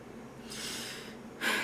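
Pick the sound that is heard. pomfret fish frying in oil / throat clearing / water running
throat clearing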